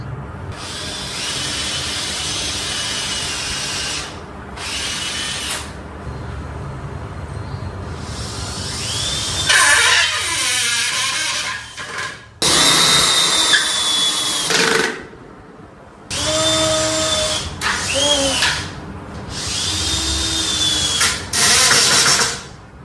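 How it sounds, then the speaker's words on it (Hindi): A power drill bores holes into a wooden frame in several loud, close bursts, each whining run starting and stopping with short gaps between them. "ड्रिल ले आओ जरा होल करने के लिए।"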